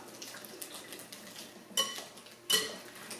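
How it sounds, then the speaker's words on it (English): Spoon clinking against a bowl while pie filling with jalapenos and salt is stirred, two sharp near clinks standing out over soft scraping. "we're going to mix that up"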